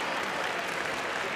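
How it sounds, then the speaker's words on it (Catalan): Audience applauding at a university graduation ceremony, a steady, even wash of many hands clapping in a large hall, moderately loud and continuous. "Podem seguir amb els aplaudiments"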